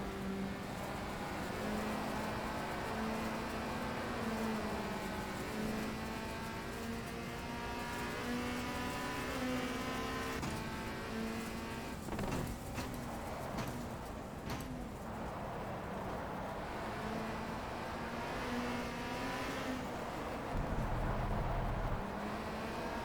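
A touring car engine in a racing video game drones steadily with shifting pitch while tires scrub and hiss as the car slides on low grip, a constant loud mix with no talking.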